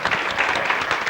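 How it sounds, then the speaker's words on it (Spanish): An audience at a tribute concert bursts into dense, sustained applause, many hands clapping close and loud in a brief continuous burst. "Otra vez pido un aplauso para..."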